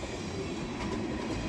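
A Norfolk Southern freight train rolling along the rails, a loud, steady rumble of railcars passing close by, with continuous low wheel noise and no voices.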